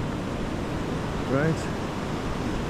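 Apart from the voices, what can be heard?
ocean waves at Uvita, Costa Rica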